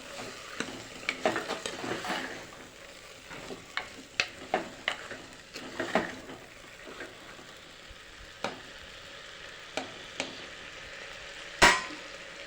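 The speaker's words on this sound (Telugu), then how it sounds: "ఇప్పుడు దీన్ని బాగా కలుపుకునేద్దాం మసాలా అంతా పట్టేట్టుగా పసుపు అంతా కలిసేటట్లుగా అంతా కలుపుకుండేయాలి" Masala and turmeric are stirred into a black-eyed pea curry, with a spoon scraping and knocking against the pot in irregular strokes over a steady low sizzle and one sharper clang near the end.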